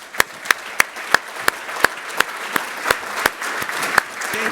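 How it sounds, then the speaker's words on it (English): Clapping at a conference fireside session, sounding as sharp, evenly spaced individual claps close to the microphone rather than a full crowd, about a dozen crisp hits over a faint room background. "let's give Christina a round of applause"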